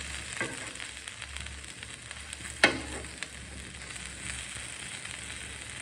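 Potatoes frying in a pan for pizza dosa, giving a steady close sizzle with a brief sharp clink partway through.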